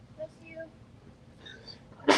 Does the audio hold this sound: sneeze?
yes